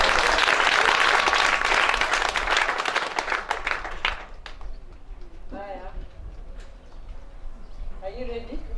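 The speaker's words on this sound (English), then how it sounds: "We give him a applause." Audience applause at a groundbreaking ceremony for a Chandaria Foundation sponsored clothing and textile facility, loud dense clapping for about four seconds that fades out, followed by a quieter stretch with voices.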